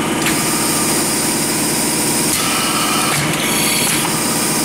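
A Burr Oak M5-STCO straight tube cut-off machine with hitch feed and straightener runs through a long tube feed, giving a steady, loud mechanical drone with rattling vibration and a few brief clanks, with no talk.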